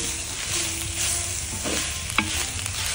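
Tomato and onion frying in a pan, a loud, continuous sizzle with a short scrape of the spoon near the end, heard close up and alone.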